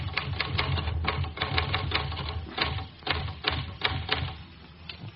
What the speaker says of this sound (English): Well, Lucia, why have you stopped typing?